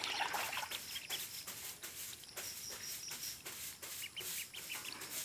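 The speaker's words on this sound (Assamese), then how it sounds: "লোকেল হাঁহ পোৱালি" Tiny local duck hatchlings, under a week old, peep in a steady, dense chorus of high, overlapping chirps close by, with a faint trickle of water beneath them and no talking.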